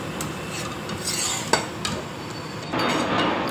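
Butter and tomato being stirred into dal makhani in a pot, a steady close scraping and sloshing with a couple of light utensil clinks, under a constant background hiss.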